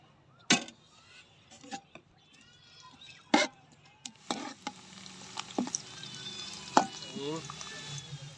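Onions stirred in ghee in a hot pan with a soft sizzle underneath, punctuated by several sharp metallic scrapes and clinks of a spoon against the pot.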